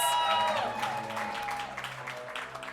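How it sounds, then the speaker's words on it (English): Crowd clapping at a media launch event celebrating Jamaican culture, fairly soft and steady, mixed with lingering tonal music or voices at the start and faint chatter underneath. "I got to give them a round of applause."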